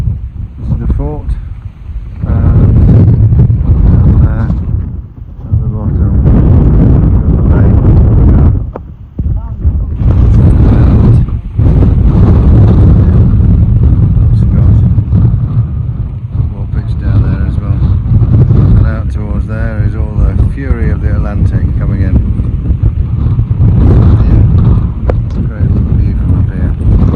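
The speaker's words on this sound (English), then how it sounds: "There up on the top, it's a bit windy" Strong wind buffets the microphone on a windy hilltop by a fort overlooking a bay, a loud, continuous rumble with gusty dips while a person talks throughout.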